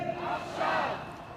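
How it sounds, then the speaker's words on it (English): A large protest crowd in Tel Aviv chants in unison, a sustained roar of many voices swelling through the middle and then easing, dense and continuous with no single voice standing out. "the crowd is responding by saying now, to release each one now"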